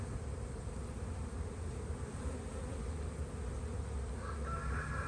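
Honey bees hum and buzz steadily around an opened hive during a spring inspection, a continuous dense drone close by, with a brief higher tone near the end.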